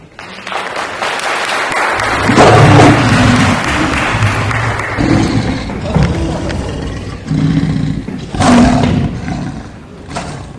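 At a school stage play of As You Like It, a lioness roar plays loud over the hall, with a rumbling growl and crowd noise around it.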